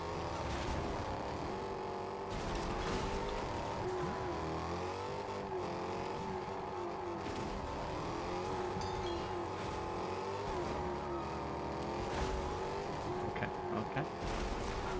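Cars in a Fortnite car derby drive and collide in steady, continuous game engine noise with revving and rumbling, plus occasional skids and tire squeals. No one speaks.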